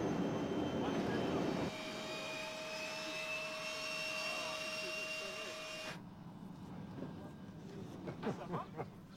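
A propeller or jet airliner drones steadily in flight, a loud continuous engine roar with a sustained whine, heard from inside the cabin. Voices murmur faintly in the background.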